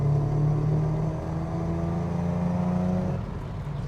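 A 1972 Datsun 240Z engine drones steadily from inside the cabin as the car moves through its gears, a low harmonic hum with slight shifts in pitch, easing off near the end.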